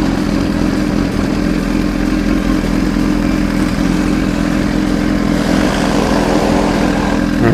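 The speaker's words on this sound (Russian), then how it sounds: "Чего себе там он газанул." A motorcycle engine drones loud and close while riding through a city street in Syzran, Russia, holding a steady dense roar with a slight rise in revs near the end and wind noise throughout.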